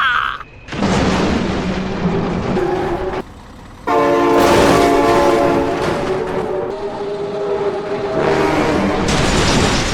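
A train in the BeamNG driving game thunders past with a loud rumble and repeated blasts of its horn. The horn cuts out briefly, then returns, all close and dominant with no voices over it.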